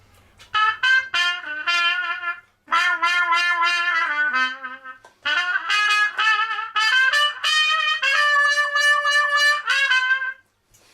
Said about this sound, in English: put our fingers in front of the stem